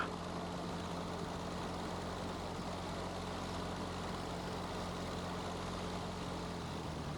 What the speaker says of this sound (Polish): I powoli, na małych obrotach odkołowujemy.